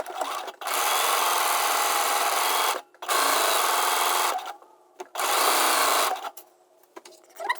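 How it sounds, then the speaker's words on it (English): Sewing machine running close by while stitching a dress hem, three long steady bursts of rapid whirring separated by short pauses, with no voices. "I'm going to do the hem of the dress or the shirt and both sleeves"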